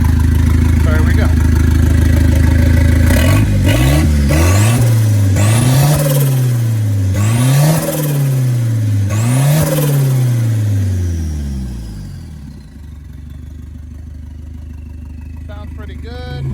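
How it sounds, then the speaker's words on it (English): A 2001 Mitsubishi Mirage engine revved several times from idle, each rise and fall distinct and close up, then settling back to a low idle hum before it cuts off. "I'm going to give it a couple revs for you so you know what's going on."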